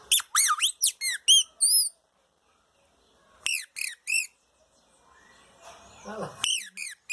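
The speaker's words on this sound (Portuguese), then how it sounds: "Olha lá, os passarinhos estão respondendo." Wild birds answer in short bursts of high, sharp squeaky calls, a quick series at the start, another cluster midway and more near the end, with quiet gaps between and faint activity behind.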